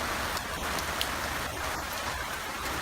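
Steady heavy rain falls outdoors during a home canning session, a dense even hiss of drops close by with no talk or pauses.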